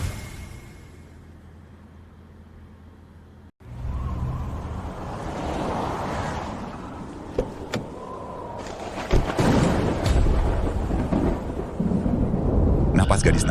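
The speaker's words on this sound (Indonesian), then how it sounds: "Di tengah badai salju ini kenapa ada guntur dan kilat?" Thunder rumbles through a snowstorm scene as a drama sound effect: low rolling booms building over several seconds, with cracks and a heavy, loud rumble toward the end, with no talk.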